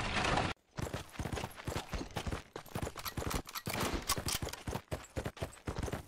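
Rapid, hard horse hoofbeats in the video game Red Dead Revolver clatter in a galloping rhythm, loud and continuous after a brief gap near the start.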